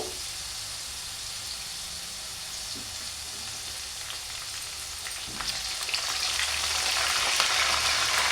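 Pieces of broad bean (chikkudukaya) fry in a pan for a chutney, making a continuous soft sizzle and hiss that builds louder toward the end, close by with no voices.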